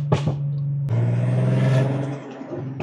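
A turbocharged petrol car engine in manual mode revs up on a downshift, a steady close engine drone with a sharp click near the start and a rising whoosh from the turbo.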